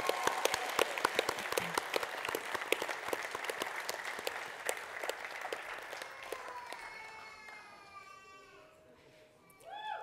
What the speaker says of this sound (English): Let's give Peter a round of applause as he comes up.